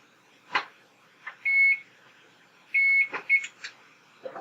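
An oven sounds a series of electronic beeps as it begins preheating to 425 degrees, with short tones and two longer held beeps spread over a few seconds, fairly clear in a quiet kitchen.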